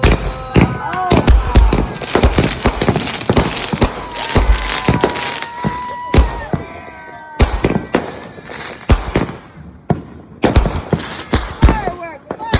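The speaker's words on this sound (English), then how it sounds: "Firework, firework." Fireworks burst in a rapid, loud barrage at an outdoor backyard-style celebration, sharp cracks and booms coming close together in clusters with short pauses, while people shout and talk between blasts.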